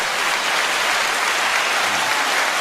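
A short, dense burst of clapping from a group, even and continuous with no pauses, cutting off abruptly at the end.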